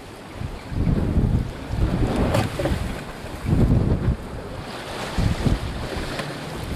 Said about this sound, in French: il y a trop de vagues là